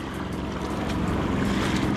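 A fast-running motorboat engine, a newly fitted motor on a Filipino bangka, drones loud and steady throughout, with water and wind noise mixed in and no talking.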